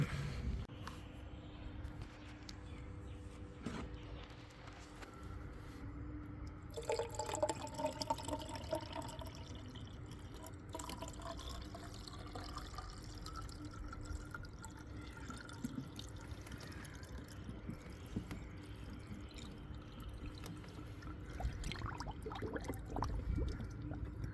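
Coolant pours into the reservoir of a Toyota Alphard/Vellfire, a steady close liquid trickle and gurgle with occasional drips running throughout, no talking.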